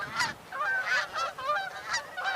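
Canada geese fly overhead with a steady run of repeated, rhythmic honks at moderate distance, with no talking underneath.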